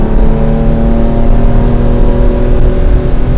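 A 1967 Ferrari 330 GTC engine drones loud and close from inside the car while it shifts down into second gear on a country road, a steady rich hum with strong low rumble and no talk.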